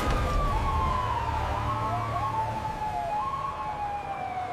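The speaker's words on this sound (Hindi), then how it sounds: "दूर से सायरन की आवाज सुनाई दी।" A wailing siren rises and falls in the distance over a low rumble of traffic, steady and fairly faint throughout.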